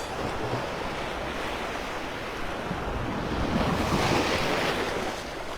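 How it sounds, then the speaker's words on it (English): Gulf ocean waves break on the beach at Delnor-Wiggins in North Naples, Florida, a steady close wash of surf with wind noise and a swell in loudness toward the end, no voices. "Sometimes I just kind of drift away standing here with my toes in the water, listening to the waves."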